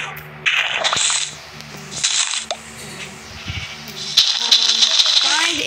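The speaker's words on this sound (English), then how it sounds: "I'm gonna be killing sheep because I'm sad." Sheep bleat in a video game as they are attacked, several short cries spread across the clip mixed with game rattles and effects, while a player talks over them.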